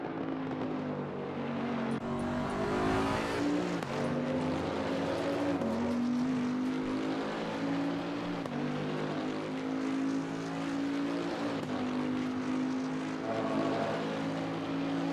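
A Bentley GT3 race car engine in the video game Assetto Corsa Competizione, at Kyalami, drones steadily at high revs, its pitch dipping briefly at gear shifts and climbing again, continuous with no talking.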